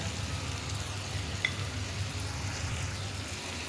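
Spices go into a hot pan of hilsa fish and sizzle steadily and closely, a continuous frying hiss with no voices.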